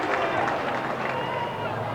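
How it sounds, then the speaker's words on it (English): Crowd noise from spectators at a 1999 Australian rules football match between Port Adelaide and Glenelg, a steady broad roar and murmur filling the ground without a clear peak. "The crowd's right behind him this afternoon."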